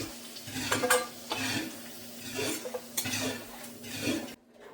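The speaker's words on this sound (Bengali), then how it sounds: "আলুগুলোকে ভেজে তুলে নিচ্ছি।" Potatoes fry in mustard oil in a pan, a steady sizzle broken by repeated scraping stirs of a utensil against the pan, ending in a brief near-silence; no one speaks.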